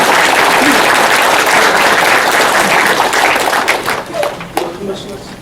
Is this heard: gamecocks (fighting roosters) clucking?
no